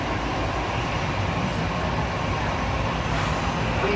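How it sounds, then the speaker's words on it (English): Rumbling ride noise inside the DFW Airport Skylink automated people-mover train as it departs at the Grapevine, Texas airport, a steady, close, even roar of wheels and motors with no speech. "Please hold on. This train is departing."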